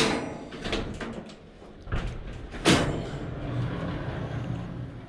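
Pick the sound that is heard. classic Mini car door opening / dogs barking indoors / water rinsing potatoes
classic Mini car door opening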